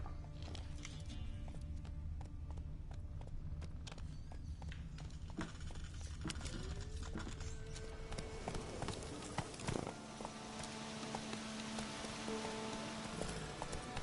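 Roach, the horse in The Witcher 3, moves in steady clip-clop hoofbeats that carry on throughout, with faint ambient game sounds mixed in.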